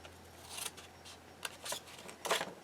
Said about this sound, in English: I'm just cutting right down the center